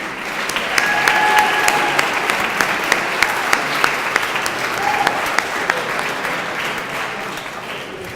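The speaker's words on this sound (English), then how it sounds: "Please give them one more round of applause." Graduation audience for the School of Media Studies, International Affairs and TESOL programs applauds the graduates, a strong continuous wash of clapping with a few sharp nearby claps and brief voices underneath.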